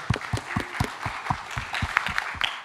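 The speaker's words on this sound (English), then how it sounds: "Applause, please." Scattered clapping from a small crowd at a music panel during a pony fan convention, irregular and fairly close, lasting a few seconds.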